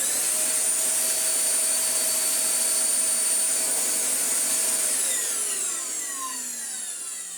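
A Vorwerk VK135 vacuum cleaner with a slightly winding motor runs loudly and steadily at close range with a high whine. The motor then spins down, its pitch sliding lower over the last couple of seconds.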